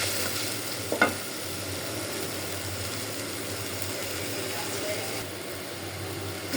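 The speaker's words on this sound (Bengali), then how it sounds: "অল্প করে মশলাটা একটু কষানি হোক" Spice paste sizzling and being stirred in a pan while cooking a pangas fish and potato curry, a steady close frying hiss with a brief clatter of the spoon early on.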